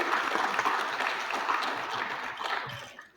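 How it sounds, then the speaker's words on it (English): Audience at a financial aid information night applauds steadily for about three seconds, a dense wash of clapping that fades out at the end with no talk over it. "So round of applause for Rachel"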